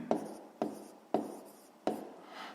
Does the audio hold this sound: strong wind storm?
no